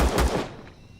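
A quick pair of sharp gunshots from a weapon in the game Empyrion, loud and close, trailing off into a fading echo.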